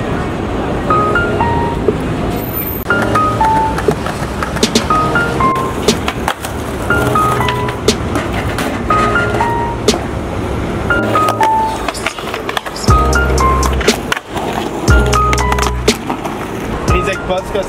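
A skateboard rolls over New York City streets with a steady rough grinding rumble and a few clacks, under people talking and a melodic backing throughout.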